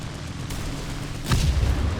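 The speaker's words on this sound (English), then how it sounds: "Next rocket out." A rocket fired from a Swordfish Mk II aircraft in War Thunder strikes its target with a single dull boom and a rumbling tail over steady engine drone.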